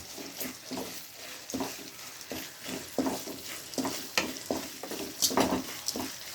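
Sliced onions with salt sauté in a pan over high heat, giving a continuous sizzle broken by repeated scraping stirs at a steady, uneven rhythm, close and moderately quiet.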